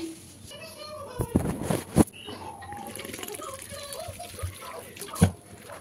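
Cluster beans are rinsed in a bowl of water at a home kitchen, with soft splashing and a few sharp clatters as the beans are stirred, while someone talks over it.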